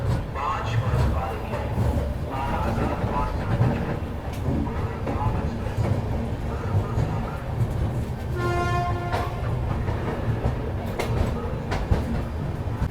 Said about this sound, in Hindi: फाइनली अपनी शताब्दी एक्सप्रेस निकल रही है न्यू दिल्ली रेलवे स्टेशन से